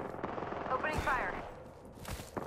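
Gunfire in Apex Legends comes in a few quick bursts of shots at moderate distance, mixed with other game sounds and a voice speaking briefly.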